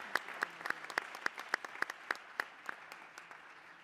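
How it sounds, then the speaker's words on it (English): Sparse applause in a congressional subcommittee hearing room, a few people clapping in a slow, even rhythm that stays faint and gradually fades out. "let's give them all a round of applause for their service to"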